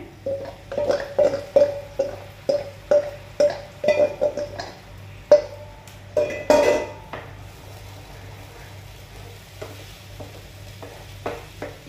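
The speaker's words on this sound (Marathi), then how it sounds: "आता आम्ही दही आणि बेसन मिक्स करून घेतलेले ते घालपाचे." A mix of yogurt and gram flour goes into a pot with a short splashing pour, after a run of rhythmic spoon clinks against the metal. Faint stirring and quiet kitchen noise follow.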